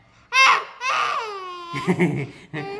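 A baby cries loudly in several wailing bursts, high and strained, with a short pause between them and some overlapping voice at the end.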